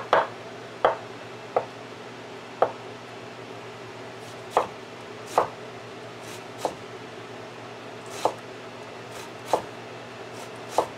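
A knife chops an onion on a cutting board in a home kitchen, about a dozen sharp, distinct taps spaced irregularly over a quiet background, close and clear.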